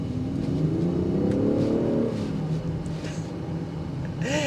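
A 2024 Range Rover Sport Dynamic SE SUV with a turbocharged, supercharged six-cylinder engine accelerates, its engine note climbing steadily in pitch for a couple of seconds over constant road and cabin noise.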